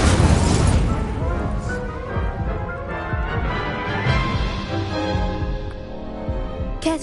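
Incendio fire spell cast in Hogwarts Legacy on PS5: a loud burst of blast and crackling flame at the start, then continuing rumbling combat effects and music for several seconds.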